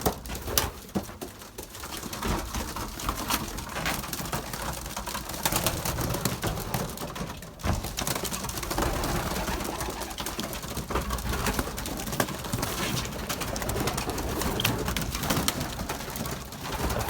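Belgian racing pigeons coo inside a loft during young-bird training, a steady layered murmur of soft calls mixed with rustling and shuffling from a crowd of birds, continuous and fairly close.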